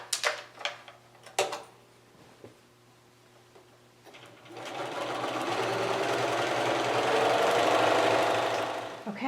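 After a few sharp clicks and knocks, a sewing machine starts up and runs steadily, stitching a jelly roll quilt row with a continuous whirring hum that grows a little louder.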